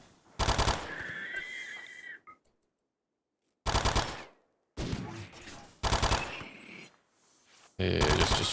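Bursts of video game gunfire in several loud volleys, separated by short silent gaps, with rapid automatic fire in places.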